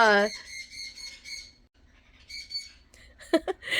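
A pet bird squawks loudly and repeatedly close by, in harsh bursts with short chirps, while a person talks over and between the calls.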